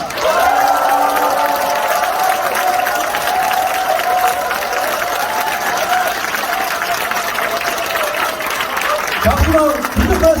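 Audience clapping and cheering at a talk concert in a workers' cultural centre in Gumi, a dense, steady wash of applause throughout, with a host's voice briefly heard near the end.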